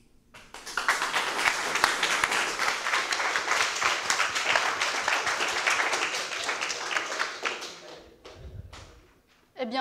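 An audience at a university eloquence contest gives sustained applause after a debate duel, dense clapping that carries on for about eight seconds and then tapers off, followed by brief talk at the end.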